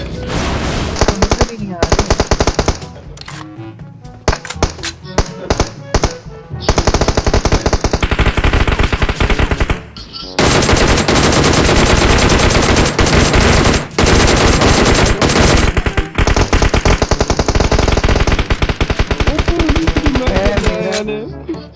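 Rapid automatic gunfire in PUBG Mobile rattles in long, loud bursts, interrupted by short pauses and dense with overlapping shots and game effects throughout.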